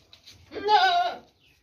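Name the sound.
goat bleating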